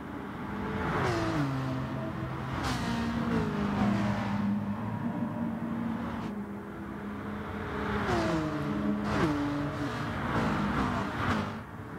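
Porsche and GTR race cars battling in a racing video game, engines whining and revving up and down through the gears, rising pitch sweeps and shifts repeating as the cars accelerate.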